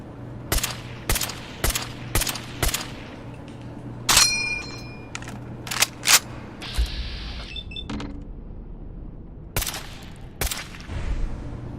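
An automated turret firing at the player in Fallout 4: a string of sharp gunshot bursts, loud and close, with metallic clangs and pings between volleys and a gap in the middle where metal rings out.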